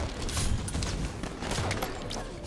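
A pistol is fired rapidly and repeatedly in a Halo 5 Infection match. Quick sharp shots crack over a busy background of game noise and thuds, with no clear pauses.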